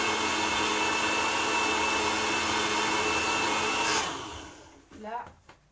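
An electric mixer runs steadily and loudly while blending cassava, a dense motor whine that cuts off near the four-second mark and gives way to quiet room sound and a brief faint voice.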